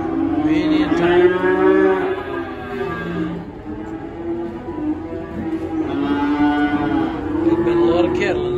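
Cattle mooing loudly inside an old barn at a cattle auction stockyard in Siler City, North Carolina, two long drawn-out lows separated by a quieter stretch of lowing and rumbling, close by with a slight echo.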